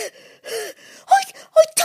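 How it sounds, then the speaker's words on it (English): A cartoon mouse character pants and gasps in short, breathy voiced bursts, close and loud, with a few quick heaving breaths in a row. "he was panting."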